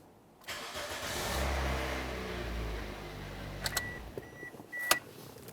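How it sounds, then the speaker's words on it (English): A 2003-2008 Toyota Corolla engine cranks and starts after a power steering pump replacement, then settles into a steady mid-pitched idle, close by, with a few light clicks near the end. "go ahead and start up the vehicle again, and we're going to let it run"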